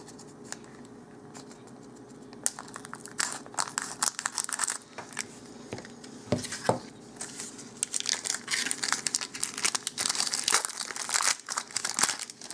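Crinkly plastic wrapper of a Mirrodin Besieged trading card booster pack crumples and tears up close, with scissor snips and rustling that grow busier toward the end; no one speaks.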